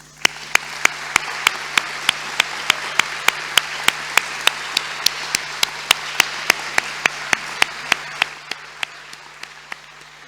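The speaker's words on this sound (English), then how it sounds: "I would like to ask you to join me in the round of applause for the UB CIVIS team." Audience applause at a university event on democracy, a steady dense clapping from a crowd that carries on for several seconds, then thins and fades near the end, with sharp regular clicks running through it.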